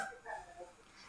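A person mimics a little dog with a quiet, whiny yelp, a few short nasal whimpers over about a second, close and faint.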